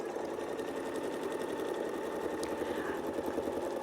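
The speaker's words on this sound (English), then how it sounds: "and now we'll sew" A sewing machine stitches a quilt block using a ruler-guided quilting setup, a close, steady fast-running whir and rapid needle patter that continues unbroken, with no talking.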